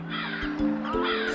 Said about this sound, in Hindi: बहुत जल्द वहां ढेर सारे कौवे आ गए